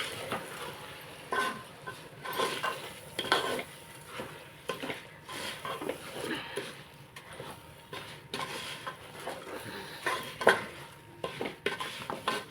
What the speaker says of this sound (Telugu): రైస్ని బాగా కలిపేసుకొని